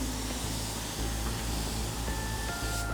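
A steady, continuous spray hiss from a paint gun, loud and even throughout with a low mechanical rumble underneath.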